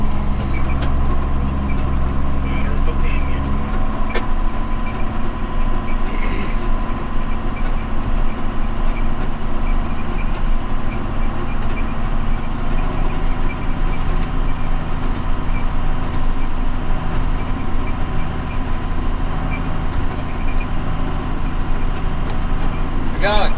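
A heavy diesel tractor engine runs steadily and loudly throughout, a continuous low rumble with a faint mechanical whine on top.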